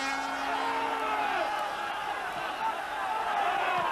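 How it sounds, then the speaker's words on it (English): A football crowd at the Dundalk versus Honved second-leg match cheers and calls out steadily, a dense, continuous roar with occasional whoops and a commentator's voice faintly mixed in. "And plenty of encouragement from the crowd."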